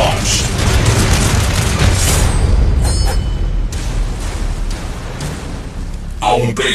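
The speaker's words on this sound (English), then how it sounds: "Nuclear missile launched!" A loud, sustained roaring blast from a nuclear missile strike in Command & Conquer: Rivals rumbles heavily, then tapers, with game announcer voice lines partly overlapping.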